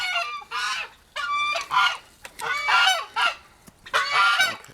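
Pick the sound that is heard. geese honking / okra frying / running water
geese honking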